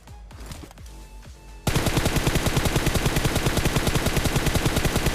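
Rapid automatic gunfire in a battle royale video game, a loud dense burst of evenly spaced shots that starts abruptly after a quieter stretch of scattered distant shots and carries on steadily.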